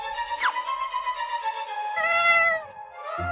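A cat meows, a long, clear, tonal cry close by that rises and then stretches out, followed by a second, brighter drawn-out meow, with faint rustling beneath.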